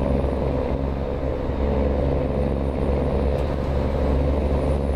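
A loaded truck hauling gravel in American Truck Simulator drives with a steady, loud low engine drone and rumble, continuous throughout with no speech.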